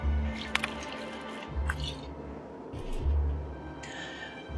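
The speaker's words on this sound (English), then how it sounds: "I'm gonna need to take a sip of water." A sip of water taken in a game narration break, with several soft wet gulps and mouth sounds spaced over a few seconds, close and quiet with no speech.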